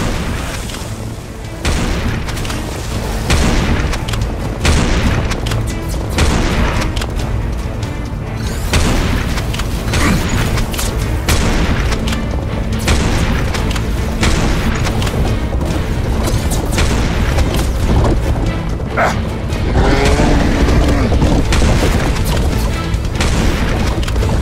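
Dense, continuous gunfire and repeated booming explosions from the Serious Sam Siberian Mayhem shooter, loud and relentless with heavy low-end thuds and crashes across the whole stretch, no voices.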